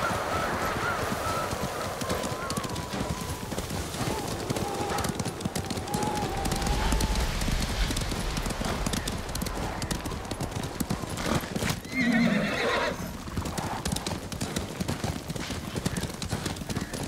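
Steady clip-clopping horse hooves from Ghost of Tsushima, a continuous trotting rhythm throughout with a brief horse whinny partway through and characters talking over it.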